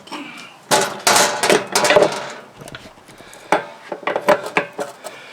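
A socket wrench being fitted onto the drain plug of an Eagle fifth-wheel trailer during winterizing, close metallic clinks, taps and scrapes in short bursts with quiet gaps.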